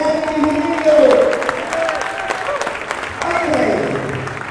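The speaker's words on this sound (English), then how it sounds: "So give it up of applause and a cheer." Event audience at a poker tournament main event applauding and cheering, a broad wash of clapping and crowd noise with voices mixed in throughout.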